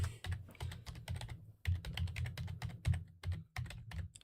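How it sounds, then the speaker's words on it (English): Fast typing on a computer keyboard comes through close and clear, with dense clicking keystrokes in quick bursts and a brief pause partway through. "I'll type it in the chat here."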